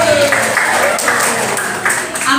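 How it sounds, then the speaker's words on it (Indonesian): Applause breaks out in a classroom for a student who scored 93 on a spreadsheet exercise. It sounds like dense, steady clapping from a small group for a couple of seconds, fairly loud and with no talking over it. "Tepuk tangan dong."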